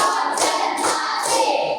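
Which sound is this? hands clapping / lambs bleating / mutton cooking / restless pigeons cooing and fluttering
hands clapping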